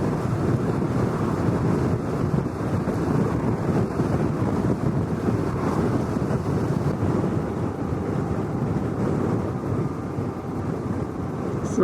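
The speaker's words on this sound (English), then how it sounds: "It gets very windy here on 154." Strong wind buffets the microphone while riding a Suzuki V-Strom 650 motorcycle over the bridge on Route 154, a steady loud roar with broadband rumble throughout and no pauses.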